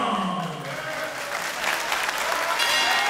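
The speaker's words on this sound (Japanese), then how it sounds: "大きな拍手に送られて第8ラウンドが始まりました。" Steady crowd applause fills a boxing arena as the final eighth round begins, a dense, sustained wash of clapping from a large audience with a faint tonal hum and some distant voices underneath.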